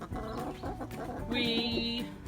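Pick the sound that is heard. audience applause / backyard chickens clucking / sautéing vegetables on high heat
backyard chickens clucking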